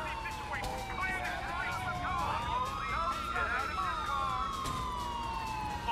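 A police car siren wails in Grand Theft Auto IV, its rising and falling tone sweeping continuously amid game traffic noise, with someone talking in Polish over it.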